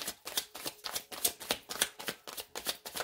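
Tarot cards being shuffled in a rapid, steady riffling rhythm, about a dozen crisp papery bursts in quick succession, close and fairly quiet with no talking.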